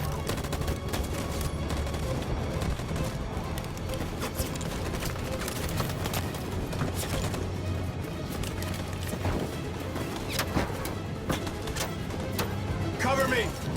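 Rapid bursts of gunfire crackle through a dense, loud battle scene in the video game Detroit: Become Human, with shouted voices and busy action sounds layered throughout.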